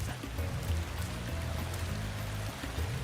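A waterfall in the Spyro 2: Ripto's Rage (Reignited) video game rushes as a steady, dense wash of falling water, constant and fairly close, with no voices.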